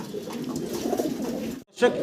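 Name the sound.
short face pigeons cooing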